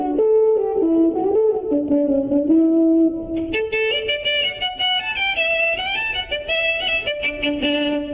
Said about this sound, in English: The French horn sounds like this.